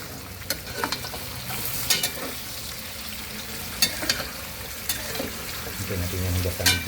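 A spoon clinks and scrapes as it stirs pork lung adobo with bay leaf and chili, which sizzles quietly in a pan, in irregular close knocks, with a voice talking lightly in the background.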